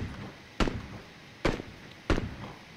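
Three sharp gunshots from a multiplayer video game ring out one at a time, spaced roughly a second apart, each a loud close crack with a short tail over a quiet background.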